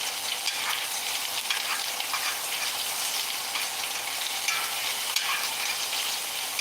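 Meat browning in a hot cast iron skillet for a steak, giving a steady, dense sizzle and crackle that stays loud and close throughout with no talk.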